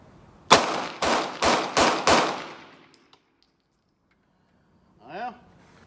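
A Glock pistol fires five sharp shots in quick, even succession from a Shield Arms magazine, loud and close with ringing decay, followed by a faint click and a short voice after a pause.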